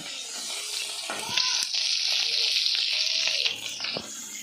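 Prawns frying in a home kitchen pan give a steady broadband sizzle that swells louder partway through, with small clinks and stirring noises over a faint hiss.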